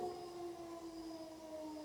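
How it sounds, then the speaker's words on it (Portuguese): A siren sounds outside, a faint, steady wailing tone with sustained harmonics that drifts slightly in pitch, distant and with no other sounds over it. "está tocando uma sirene"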